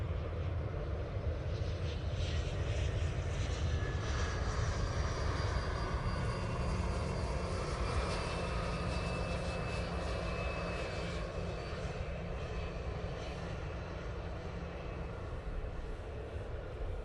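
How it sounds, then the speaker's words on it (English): A Loganair Embraer ERJ 145 regional jet touching down at Manchester Airport, a steady broad engine roar with wind-like rush heard at a distance, continuous and fairly faint throughout. "Loganair touching down with our ERJ 145."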